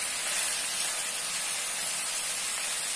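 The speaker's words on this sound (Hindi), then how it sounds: "चिकन को ऑयल में अच्छे से फ्राई कर लेंगे।" Chicken pieces frying in hot oil in a home kitchen pan, a steady, loud, continuous sizzle and hiss lasting throughout without pause.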